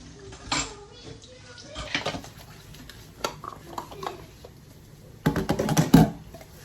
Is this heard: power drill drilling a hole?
no